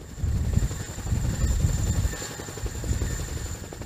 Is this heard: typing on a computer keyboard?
no